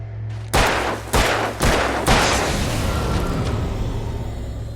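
Four loud gunshots fire in quick succession in the Alan Wake video game. Each blast is sharp and close, and a lingering ringing decay follows over a low hum.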